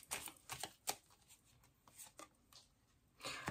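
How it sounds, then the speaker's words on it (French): Tarot cards being drawn and handled, giving soft papery slides, flicks and light taps in short irregular bursts, close up and quiet with no voices. "On peut sortir les cartes."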